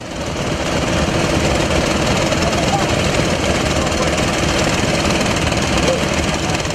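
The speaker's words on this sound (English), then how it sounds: "a Chinese-made engine, Chanfan, which powers the vessel to move and pump the gravels up from under the river" A Chinese-made Chanfan engine powers a floating gold-mining river vessel that pumps gravel from the riverbed, a loud, steady, dense mechanical roar that holds unchanged throughout with no pauses.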